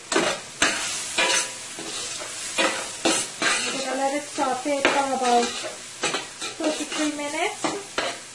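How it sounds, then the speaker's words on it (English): Food sautéing in a pan with onion powder, repeated stirring and tossing scrapes over a steady sizzle, close up, with a person speaking briefly over it. "Okay, and you're going to give this a toss. You're going to let it saute for about"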